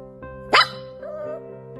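A single sharp dog bark rings out clearly, followed by a short whine, over light background music.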